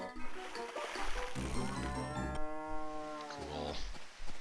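Cattle mooing in the farming video game Harvest Moon DS, several long drawn-out moos following one another, close and loud with no talk over them.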